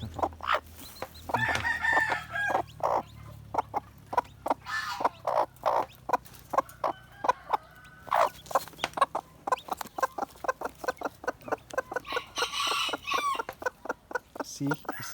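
A native hen crossed with Rhode Island Red clucks in a steady, rapid series of short, sharp calls, close and fairly loud, running almost without pause throughout.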